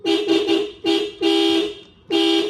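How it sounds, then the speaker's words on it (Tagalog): Toyota Innova car horn being tested after a repair, sounding in several loud, close blasts of uneven length separated by short gaps, with a steady two-tone blare and no talk. "testingin na lang natin kung gagana yung busina ng Innova"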